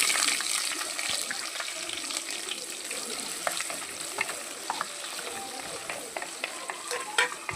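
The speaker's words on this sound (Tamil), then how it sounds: "இப்போ நம்ம அதே கடாயில் இந்த மாதிரி நீல வாக்கில் கட் பண்ண வெங்காயத்தை சேர்த்துக்கலாம்." Sliced onions frying in a kadai for a Tamil brinjal gravy, a steady soft sizzle with scattered stirring clicks and scrapes throughout.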